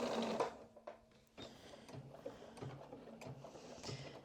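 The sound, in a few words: sewing machine sewing a vest seam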